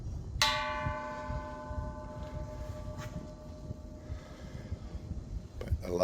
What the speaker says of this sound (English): they ring these bells as part of their prayer process